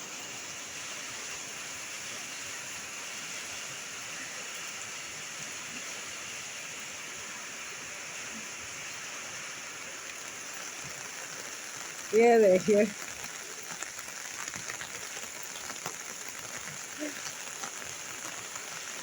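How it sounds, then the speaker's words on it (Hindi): Heavy rain falling steadily on a rooftop in Dehradun, a dense, even hiss that continues throughout, with a brief rattle near the middle and someone speaking softly over it. "दोस्तों, आज सुबह से बारिश हो रही है देहरादून में"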